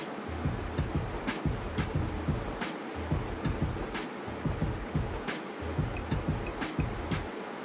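A spiced vegetable curry of nookal (kohlrabi) poriyal boils in a pan, a steady bubbling and popping with a soft rhythmic churn throughout, moderately loud and without talk.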